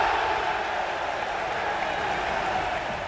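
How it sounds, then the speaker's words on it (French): Tennis stadium crowd roaring and applauding for Hugo Gaston, a steady wash of cheering and clapping that stays loud throughout. "à chaque point gagné par Hugo Gaston, la foule est en délire"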